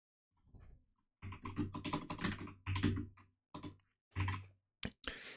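Python code being typed on a computer keyboard, bursts of close, crisp key clicks in quick runs with short pauses between them.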